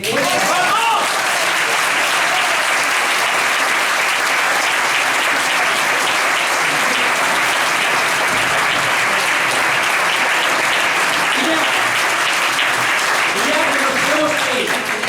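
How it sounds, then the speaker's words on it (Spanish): Assembly audience at Casa Jaume I in Elche bursts into loud, sustained applause, dense clapping filling the room steadily throughout, with a few voices calling out near the end. "Ahora sí podéis aplaudir"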